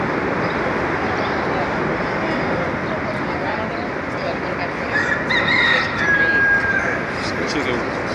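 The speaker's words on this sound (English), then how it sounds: "See the rooster crawling over there?" A rooster crows once outdoors, the call rising clearly for a couple of seconds partway through, set against steady wind-like background noise and people talking nearby.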